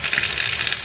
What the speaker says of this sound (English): Now let me turn the water on.